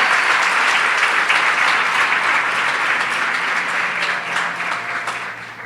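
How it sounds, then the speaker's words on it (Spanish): A church congregation gives the Lord a loud round of applause: dense, sustained clapping from many hands that fills the room, steady throughout and easing slightly toward the end, with no voices over it. "dale un fuerte aplauso al Señor"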